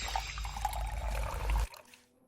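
Water is poured into a glass in a short, close, bubbling stream that stops abruptly after about a second and a half, then falls to near silence.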